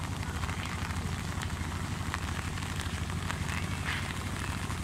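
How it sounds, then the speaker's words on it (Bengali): Steady heavy rain hisses down over a playing field outside Bangabandhu Stadium where boys are playing football, a dense, even roar with no voices standing out. "বৃষ্টি হচ্ছে।"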